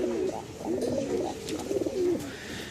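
Pakistani Shahjahanpuri pigeons coo nearby in repeated soft, throaty rolling calls, a few overlapping phrases over a faint background hum.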